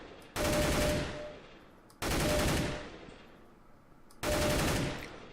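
Three short, loud bursts of automatic gunfire in CS:GO, each cut off after a fraction of a second and spaced about two seconds apart, with brief echoing tails between them and no voices.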